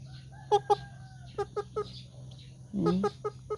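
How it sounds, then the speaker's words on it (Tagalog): A nearby chicken clucks in short repeated pulses, a steady hum behind it and a brief voice breaking in partway. "tingnan nyo yung manok ko guys, oh"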